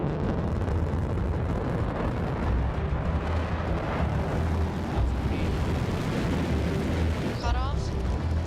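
A Blue Origin New Shepard rocket launching from West Texas, a continuous, heavy, rumbling roar that stays loud and steady throughout, with voices faintly audible underneath.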